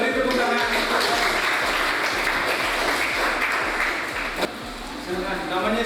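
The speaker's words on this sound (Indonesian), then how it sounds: "Beri tepuk tangan." Students in a classroom lesson on waste management applaud together. The clapping is brisk and continuous, sounds fairly close and fills the room for several seconds.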